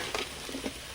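Crabs dropped into sizzling garlic paste in a hot pan, a brief crackling fry with a few soft stirring scrapes, close and quiet.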